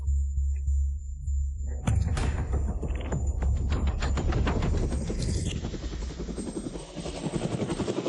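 A helicopter flies close by, its rotor throbbing loudly and steadily as it approaches for a landing at a village entrance, with a whining turbine tone above the beat and no talk.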